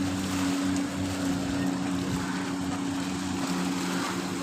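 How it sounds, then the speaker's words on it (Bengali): Speedboat with two people aboard, engine droning steadily and close under wind and splashing water on a river, with no voices. "দুজন চালাতেছে স্পিড বোট।"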